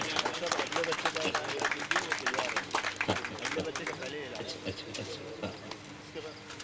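Audience clapping at a mushaira poetry gathering in Deglur, India, dense rapid hand claps that start strong, then gradually thin and fade over several seconds.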